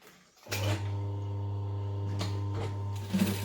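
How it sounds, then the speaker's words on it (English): Sewing machine top stitching around a vinyl edge, a steady close motor hum and needle drone starting after a brief quiet lead-in, with a few soft clicks and thumps of handling. "we're just going to top stitch around that edge"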